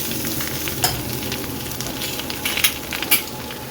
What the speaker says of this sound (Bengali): একটু মাছের মাথাটাকে ভেজে ওর মধ্যে ডাঁটা, আলু, পেঁপে এগুলো দিয়ে দিয়েছি, একটু ভেজে নিলাম